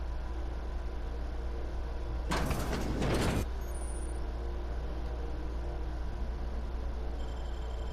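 A sci-fi sliding door in The Outer Worlds whooshes open with a short hissing, mechanical burst of about a second over a steady low ambient hum.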